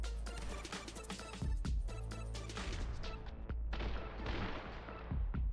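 Several sharp gunshots in the video game The Hong Kong Massacre crack in quick succession, some in short bursts, each with a brief echoing tail, standing alone without talk.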